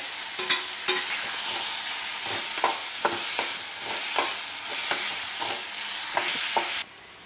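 Spiced potato and tomato burger filling frying on a tawa, loud close sizzling broken by repeated scraping strokes of a spatula stirring the mix, ending abruptly.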